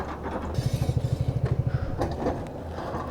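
Motorcycle on a mountain road in Spiti, its engine puttering in a quick, regular rhythm of pulses for about a second as it rolls forward, then fading into rough outdoor background noise.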